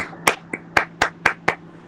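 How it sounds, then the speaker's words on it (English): Six crisp, evenly spaced hand claps ring out at a data analysis award ceremony, sharp and close, each one quick and distinct with short silences between and no talking over them. "clap for yourself"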